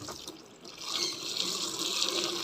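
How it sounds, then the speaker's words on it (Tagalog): Water rushing from a tap into a washing machine tub for laundry, a steady close splashing fill that grows slightly louder after the first half second, with no talking. "lagyan natin ng tubig"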